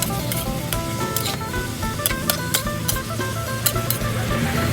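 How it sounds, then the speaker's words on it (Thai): Holy basil being stir-fried and tossed in a pan, a steady close sizzle and hiss with sharp scraping spatula strokes and clinks recurring throughout, no talk. "ผัดคลุกเคล้าให้เข้ากัน"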